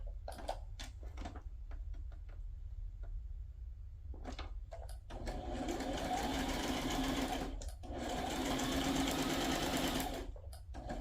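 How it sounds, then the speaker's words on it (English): A sewing machine runs a straight stitch along a handmade journal tag in quick start-stop bursts, short clattering runs first and then longer steady whirring passes, close and clear with no talking. "I'm probably gonna do a straight stitch here"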